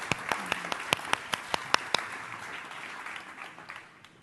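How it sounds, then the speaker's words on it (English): A few distinct, sharp hand claps ring out in a steady rhythm over a soft wash of audience applause at a panel discussion on carbon markets, the clapping thinning and fading away. "a round of applause for our doers and to all of you"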